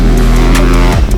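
A KX450 motocross dirt bike ridden hard, its engine loud and close with a steady high drone that drops off sharply near the end, as if the rider chops the throttle.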